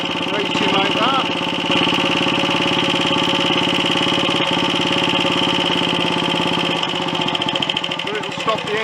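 A Royal Enfield Olympic 250 motorcycle engine runs fast at idle, a loud, steady close-up drone that races without settling while someone talks over it.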